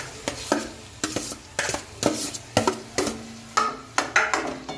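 A spoon stirs mashed potatoes into roasted, oil-released masala in a pan, knocking and scraping in a regular rhythm of about ten sharp strokes over a soft sizzle, close up with no voices.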